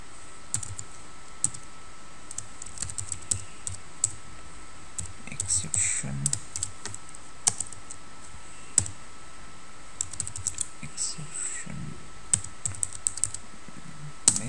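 Code being typed on a computer keyboard, with scattered close key clicks in short bursts and pauses, while a quiet voice murmurs in the background.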